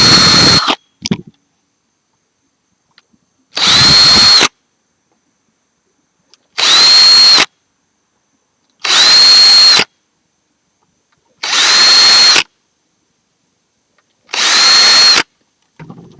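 A power drill boring holes in a PlayStation 2 case, heard as five separate loud bursts of high whining, each about a second long, with silence between them.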